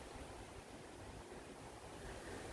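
Steady broadband rushing of the River Thames flowing near Lechlade at night, a continuous low wash with no breaks, heard from a short distance with faint wind in the background.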